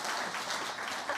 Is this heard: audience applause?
yes